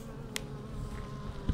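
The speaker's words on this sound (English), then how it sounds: "they keep buzzing as close to a natural bee sound as possible" A low, continuous buzz of honeybees hums steadily, with a brief faint click partway through.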